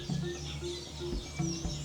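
Small birds chirp and twitter softly inside an aviary enclosure at Animal Kingdom, including golden weavers, short repeated high calls over a low steady background hum.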